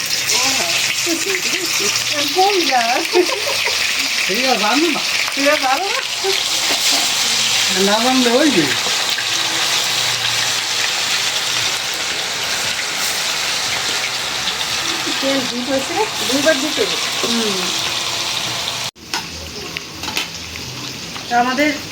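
Pieces of meat fry in hot oil in a home kitchen with a constant, close, rain-like sizzle, while people talk over it for much of the time.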